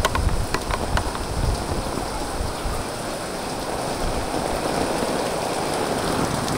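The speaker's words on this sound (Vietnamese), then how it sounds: "Mưa lớn cực kỳ luôn." Very heavy rain pours on a Saigon street, heard from beneath an umbrella: a loud, constant roar of drops with sharper close pattering on the canopy at first, then a steady dense wash.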